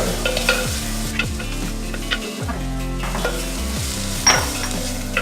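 Wilted curry leaves sizzle and get stirred in a frying pan while cooking Kuttanadan duck roast, with steady loud frying hiss and repeated spoon scrapes against the pan throughout.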